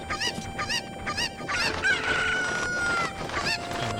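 Cuccos, the chickens of the video game Ocarina of Time, clucking in repeated sharp bursts, then a longer squawking cry, over a steady game music backdrop.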